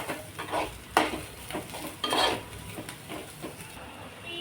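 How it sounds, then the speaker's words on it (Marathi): Onions fry in a pan until golden for a village-style spicy chicken curry, with a soft sizzle under a spatula that scrapes and stirs in several bursts. No one speaks. "गोल्डन कलर येईपर्यंत छान कांद्याला भाजून घेऊया।"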